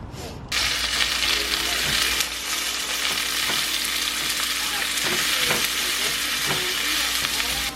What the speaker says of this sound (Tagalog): Loto tayo, guys. Ano yung niluluto ko? Mushrooms.